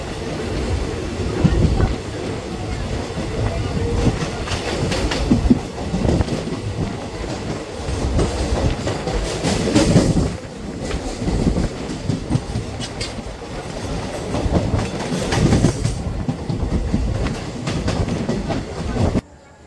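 Digha–Kolkata special passenger train running, with a loud, continuous rumble and rhythmic clatter of wheels on the rails, heard close from onboard with faint background voices.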